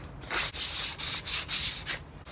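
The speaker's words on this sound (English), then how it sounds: "So first, I'm gonna start sanding it." Sandpaper rubs briskly over a wooden stool in quick back-and-forth strokes, about six rhythmic scratchy passes, close and loud with no talking.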